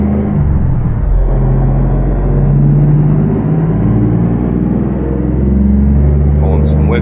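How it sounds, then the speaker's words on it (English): A heavy Autocar DC truck engine in American Truck Simulator drones and rumbles steadily at close range, with a hiss of air brakes near the end; someone talks over it. "if the truck is too loud"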